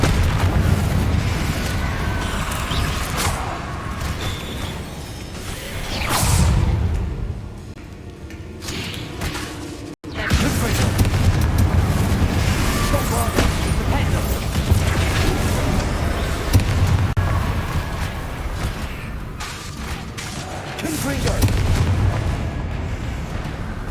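Explosive Confringo spell blasts in the game Hogwarts Legacy, a series of booming impacts and bursts over a continuous dense rumble of combat noise, loud throughout with a brief drop near the middle.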